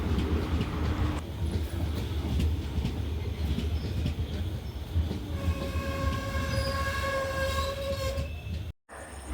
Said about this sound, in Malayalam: ട്രെയിൻ ഇപ്പോൾ പാലക്കാട് ജംഗ്ഷനിലേക്ക് എത്തിയിട്ടുണ്ട്.